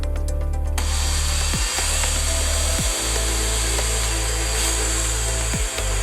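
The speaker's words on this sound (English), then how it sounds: "All I want to do is drill down through the first layer of wood" A Ryobi 10-inch drill press bores into wood: a loud steady motor hum runs throughout, with three brief dips where the bit bites and the load shifts, close and without talk.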